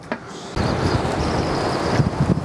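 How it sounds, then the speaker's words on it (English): Steady, rough outdoor wind noise buffeting the microphone beside an RV, broadband and continuous after a brief quieter start. "It's really windy out here."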